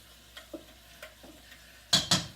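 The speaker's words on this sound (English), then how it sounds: "I'm going to put that little bit of onion with the beef to brown" Onion and ground beef brown in a pan for sloppy joes, with a faint low sizzle under light utensil clicks, then two louder scraping stirs near the end, no one speaking.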